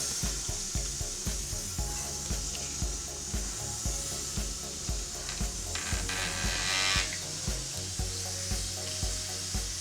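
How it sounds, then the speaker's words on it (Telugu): Two kilograms of cleaned prawns drop into a hot pan of spiced masala for Andhra-style prawn biryani, giving a steady, close sizzle and frying crackle with stirring scrapes throughout. "ఇప్పుడు ముందుగా క్లీన్ చేసుకున్న ఈ 2 కేజెస్ రొయ్యల్ని వేసేస్తున్నాను."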